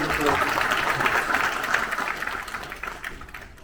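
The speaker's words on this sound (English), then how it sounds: "you can please be generous with your clapping" An audience claps steadily at a panel gathering, the applause sustained and moderately loud beneath a voice talking over it, then fading slightly toward the end.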